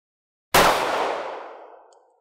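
A single loud, sharp FN 5.7x28mm pistol shot fired at ESAPI body armor plate on a range, cracking out after a short silence and then ringing and echoing away over about a second and a half.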